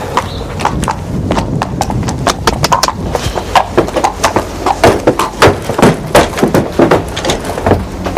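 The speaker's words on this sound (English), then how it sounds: "I should think we should have another little look at the other horse perhaps" A horse's hooves clip-clop at a walk, loud and close, with a steady, slightly uneven rhythm of sharp knocks that grow more distinct toward the end.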